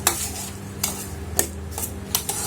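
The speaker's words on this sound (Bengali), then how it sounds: "আর একটু 1 চামচ চিনি দিয়ে সবগুলো আমি একটু মিশিয়ে নিব চামচ দিয়ে" A metal spoon clinks against a dish several times in an irregular rhythm while mixing pepper and sugar for Thai soup, over a low steady hum and faint sizzle.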